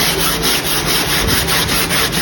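A 3M sanding block with 60 grit paper is rubbed back and forth over a surfboard fin box repair, giving a rapid rhythmic rasping scrape, loud and close, with no pauses.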